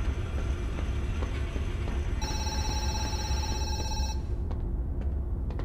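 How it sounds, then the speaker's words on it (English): A telephone rings in the horror video game Zoochosis, with a steady electronic bell tone repeating for about two seconds over constant low game ambience, then cutting off. "I gotta answer the phone."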